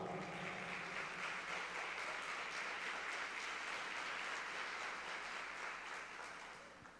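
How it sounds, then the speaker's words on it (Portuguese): Church congregation applauding steadily, a dense, even wash of clapping that holds for several seconds and tapers off slightly at the end. "Quantos podem aplaudir ao Senhor por esta palavra?"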